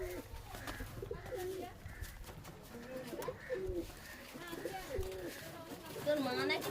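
Pigeons at a loft of Bangladeshi high-flying birds give repeated soft, throaty coos at close range, overlapping one another, with faint background murmur and occasional rustling.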